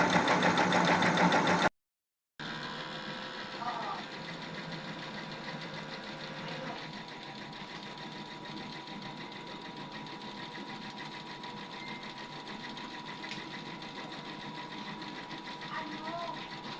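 Epson XP600 printer head running a cleaning cycle, a steady mechanical whir and buzz with faint clicks that continues for over a dozen seconds after a brief gap, fairly quiet and close.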